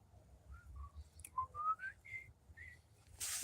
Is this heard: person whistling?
yes